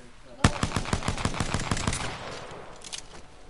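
Rapid automatic gunfire from an Apex Legends match, a loud burst of closely spaced shots for about a second and a half, then fainter scattered shots trailing off in the distance.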